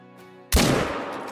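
A single sharp rifle shot goes off during a buck hunt in the video game Call of the Wild, a sudden loud crack that rings out and trails off over a second.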